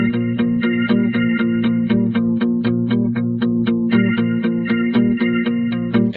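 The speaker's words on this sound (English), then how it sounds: "Next we have this guitar." Guitar line from a late-1980s song by a gothic post-punk band: steady, rhythmic picked notes with an effected, slightly distorted chorus tone, repeating evenly and loudly throughout with no talking.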